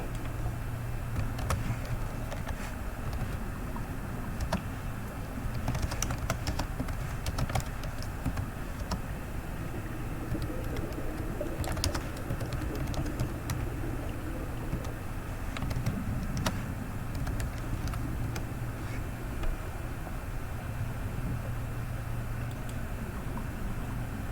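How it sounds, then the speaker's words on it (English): Typing on a computer keyboard comes through as scattered light key clicks and short bursts over a constant background hum, faint and at a distance. "Now, let's go to Google and let's type this in."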